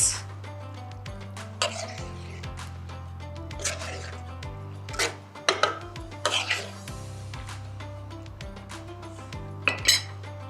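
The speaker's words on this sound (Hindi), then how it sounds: "थोड़ा कुटियल ॻाढ़ा मिर्च अची विया। सुठे तरीक़े सां कयूं मिक्स।" Kung Pao chicken being stirred with crushed chillies in a pan: scattered clinks and scrapes of a utensil against metal over a steady low hum, with a cough and throat clearing in between.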